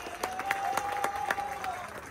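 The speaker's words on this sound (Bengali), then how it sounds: "জোরে একটা হাততালি হবে।" Applause from the audience at a CF Moto motorcycle showroom grand opening, steady clapping of a modest crowd lasting throughout, with a faint whistle-like tone running beneath.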